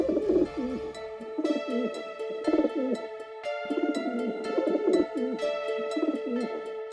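Pigeons coo over and over in soft, rolling, repeated phrases, close and clear, with a steady tonal background running underneath.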